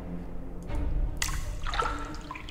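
Water running from a bathroom tap in the video game Brink of Consciousness, a steady close trickle with a brief splashy surge partway through, heard alone.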